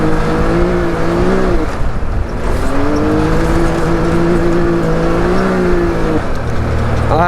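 A Can-Am X3 side-by-side at full throttle, its engine roaring loud and close with rising and falling revs as it accelerates hard, no talking.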